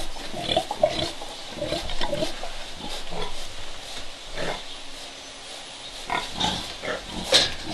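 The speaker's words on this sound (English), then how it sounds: "we've got some very excited pigs in here at the moment" Excited pigs at an animal sanctuary grunt, squeal and oink continuously at close range, with overlapping calls forming a busy, noisy stretch.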